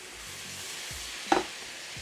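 Steady, soft sizzle of chow mein noodles frying in a hot wok, with one brief sharp clatter partway through and a few low rumbles underneath.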